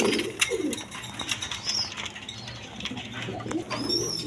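A Jacobin pigeon coos in short, close, rounded bursts, with a brief flutter of wings partway through and quieter gaps between calls.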